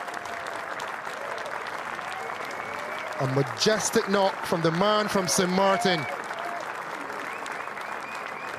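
A cricket crowd applauds a batsman's innings at a West Indies versus Ireland one-day international, steady distant clapping throughout while a commentator speaks over the middle of it.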